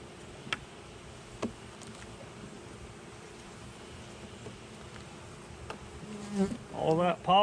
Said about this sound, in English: there's not a whole lot of bees in this box